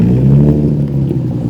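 A Nissan 350Z engine revs briefly while the clutch is worked, a short loud close rumble with a low throb that eases slightly.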